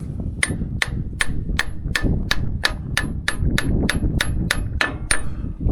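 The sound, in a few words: hammering a pin out of a farm machine cylinder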